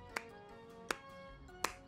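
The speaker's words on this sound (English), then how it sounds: "Let's clap slowly." Three slow, evenly spaced hand claps ring out at moderate loudness with quiet pauses between them, part of a group clapping along in a children's worship song.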